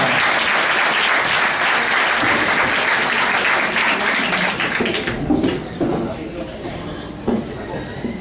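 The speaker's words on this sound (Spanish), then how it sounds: "Un aplauso para ellos." An audience bursts into loud, dense applause for student performers, holding steady before thinning into scattered claps as a voice begins to speak.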